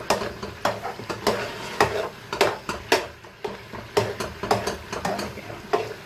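Makhandi halwa being stirred and roasted in ghee: a spatula scrapes the pan in a steady repeating rhythm, close and fairly loud, over a soft sizzle.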